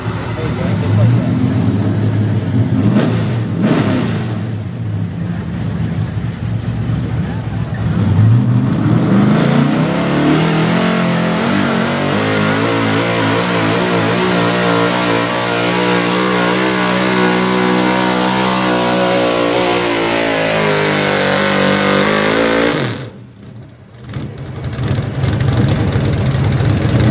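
A race car engine revs hard at the Southern Showdown at Millers Tavern, Virginia, a loud sustained roar climbing and holding in pitch, cutting off abruptly near the end before restarting, with an announcer talking over it.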